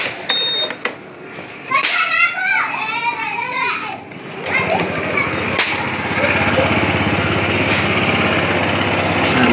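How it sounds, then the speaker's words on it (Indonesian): A Honda PCX 160 scooter engine runs rough, a steady low mechanical drone that sets in partway through and holds loudly to the end, with children's voices and other chatter heard earlier. "Nah, mesinnya kasar itu bunyinya."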